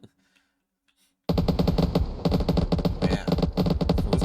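AI enemies in an extraction shooter video game fire their guns in rapid, sustained automatic bursts with short gaps, loud and close, starting abruptly after a second of near silence.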